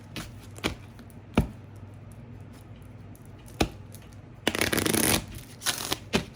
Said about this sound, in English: I have made the choice to shuffle this way.